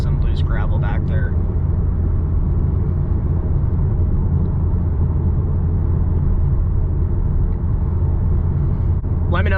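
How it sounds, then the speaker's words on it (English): A 2015 Lexus RC350 F Sport pulls hard from a standstill in a 0 to 60 run on a gravel-strewn road, its engine a loud, steady low rumble heard from inside the cabin, with brief chatter near the start. "I can turn around up here and do that, a 0 to 60 pull"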